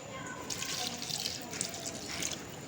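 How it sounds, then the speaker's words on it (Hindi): Water trickles and splashes faintly into a pot of aloo gosht curry with whole spices and tomatoes, a soft, uneven pouring sound that lasts a couple of seconds. "थोड़ा सा पानी और डालेंगे"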